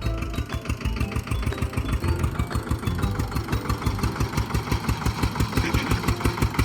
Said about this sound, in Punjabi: ਬਿਨਾ ਚਾਬੀ ਤੋਂ ਸਟਾਰਟ ਕਰਨਾ ਚਾਹ ਰਿਹਾ ਮੋਟਰਸਾਈਕਲ